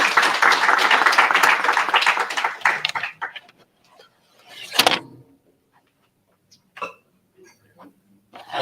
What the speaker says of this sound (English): Round of applause for Troy to welcome you.